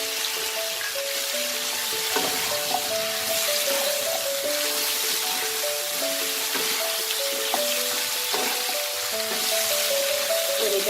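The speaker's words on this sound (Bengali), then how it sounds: "এটাকে আমি ভালো করে 5 মিনিটের মতো তেলে নাড়াচাড়া করব।" Ginger and radhuni paste frying in oil while being stirred, a steady dense sizzle throughout with light scraping strokes, close and even in level.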